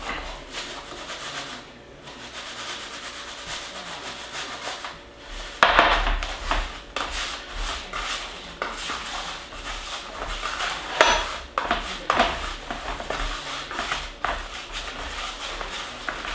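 Okra pieces shaken in breading make a steady gritty rustle and rattle that goes on throughout, with a few louder jolts and scrapes, close by.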